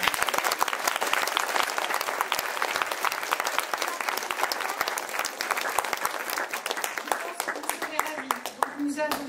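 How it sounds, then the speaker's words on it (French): A cabaret-evening audience breaks into loud, sustained applause with sharp individual claps crowding close together. Near the end the clapping starts to thin out and a brief tone rises underneath. "ils méritent un tonnerre d'applaudissements"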